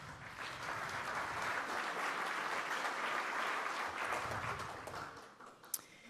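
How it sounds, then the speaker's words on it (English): A crowd at a Rotary Club meeting in Tulsa applauds steadily for about five seconds, a dense wash of clapping that fades out at the end, heard from some distance. "Let's give them a round of applause."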